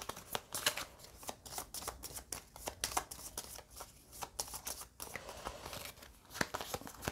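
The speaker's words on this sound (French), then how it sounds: "quand on passe, hop, on remélange toutes ces cartes" Goldblivion game cards riffled and shuffled back into a deck, a run of quick crisp card flutters and taps repeating close by for several seconds with no talking.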